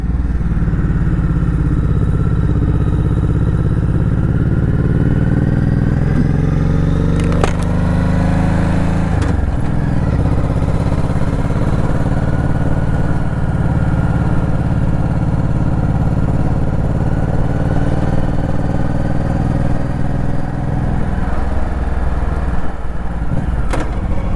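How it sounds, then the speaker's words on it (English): A 2007 Honda VT1100C Shadow Spirit cruiser motorcycle at highway speed, its engine drone loud and constant with heavy wind rush throughout, plus a couple of brief clattering bumps partway through. "2007 Honda VT1100 Shadow Spirit."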